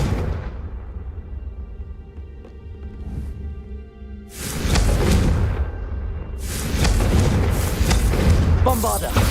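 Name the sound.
Confringo spell explosion in Hogwarts Legacy (video game)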